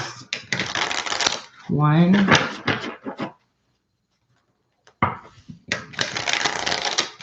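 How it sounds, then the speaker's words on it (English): Tarot cards being shuffled in two bursts of dense riffling and rustling, one at the start and one near the end. A single spoken word and a few quiet seconds separate them. "Let's do 2 shuffles."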